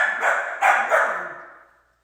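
Little puppies yip and bark in a short burst of three or four high, close calls that fade out within two seconds.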